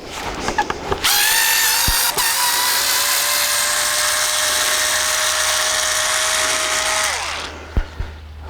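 A powered screwdriver backs a long screw out of a small garden post. It gives one close, loud whine that lasts about six seconds and then winds down, with a few light knocks before and after.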